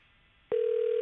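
On an outgoing phone call, the ringback tone starts abruptly after half a second of quiet and holds as a steady, loud single-pitch tone to the end, with no voices.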